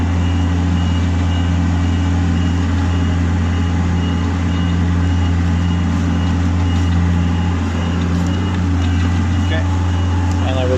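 HR21D SP64D machine running at full speed, a loud steady electric drive hum with a constant low tone and no breaks.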